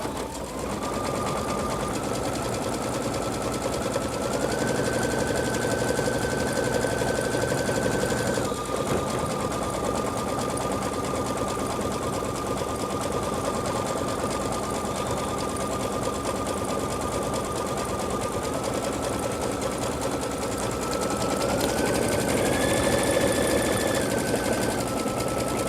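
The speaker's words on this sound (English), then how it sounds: "Going to sew that straight stitch again, a running stitch around" A Brother Luminaire XP2 embroidery machine sews a running stitch with a steady, continuous mechanical whir that shifts pitch a few times, running alone throughout.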